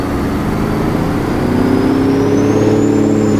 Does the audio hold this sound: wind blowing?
no